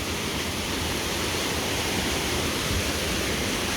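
Clean water rushes out into a very flooded creek, a dense, unbroken roar of turbulent flow, loud and close, holding steady throughout with no voices.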